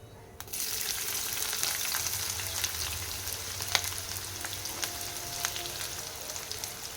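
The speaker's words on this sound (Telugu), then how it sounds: "ఒక రెండు నిమిషాలు ఆనియన్ ఫ్రై చేసుకోవాలి" Onion frying in a pan with cumin, cloves and cinnamon, a steady close sizzle with crackling, a few sharp pops and a low stirring rumble running throughout, no talking.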